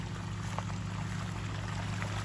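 Water gushes from a pump-fed hose while eggplant crops are watered. A steady, continuous flow sits over a low, droning engine hum, with no talking.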